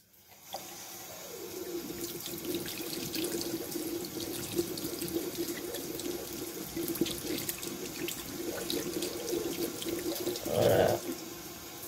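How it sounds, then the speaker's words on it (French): Very hot water running from a tap into a sink or basin in a hospital room, a steady close rushing stream that holds nearly unchanged throughout and swells briefly near the end. "l'idée c'est de mettre ça là-dedans avec de l'eau très chaude que je vais faire couler là"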